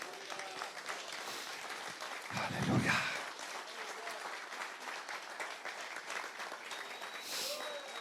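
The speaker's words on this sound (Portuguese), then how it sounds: "Posso ouvir um aplauso aí para Jesus?" Continuous applause fills a church during a Sunday service, a steady crowd of clapping hands that swells briefly midway, with a man calling out over the congregation.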